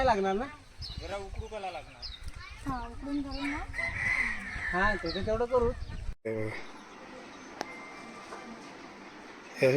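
Chickens cluck and a rooster crows on a village farm, the calls near and fairly loud for about six seconds, overlapping with people talking, before giving way to a quieter, noisier outdoor stretch.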